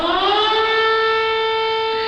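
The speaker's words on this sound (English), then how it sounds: "an air raid siren wailed across Dnipro for the first time" An air raid siren wailing across the city of Dnipro during the war in Ukraine, a sustained harmonic tone rising slightly then holding steady, loud and alone.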